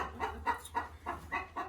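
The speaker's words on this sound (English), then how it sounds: "I'm in the chicken house or the chicken coop. And we have a lot of chickens." Chickens in a coop cluck in quick, rhythmic bursts, close but faint, with several birds overlapping.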